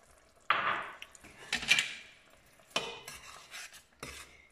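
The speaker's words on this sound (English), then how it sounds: "And now we're going to mix this" Mutton kebab mixture is stirred in a pan with a few close, sharp scrapes and clinks of a utensil against the metal, in short bursts separated by quiet gaps.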